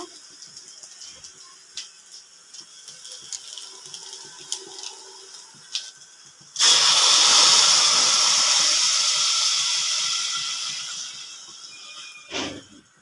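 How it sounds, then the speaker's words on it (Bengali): Hot water poured into a pan of rice and lentils frying for khichuri, a sudden loud hissing sizzle that bursts in and slowly fades over several seconds, after quiet kitchen sounds. "আমি পানি গরম করে রেখেছি, এখন আমি দিয়ে দিব।"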